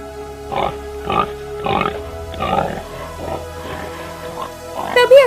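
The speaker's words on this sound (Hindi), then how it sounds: "तभी अचानक राजकुमारी को एक जंगली सुअर दिखाई देता है।" Wild boar grunting in a Hindi cartoon story, a series of six or seven loud, evenly spaced grunts over a low background drone, closing with a brief higher-pitched sound.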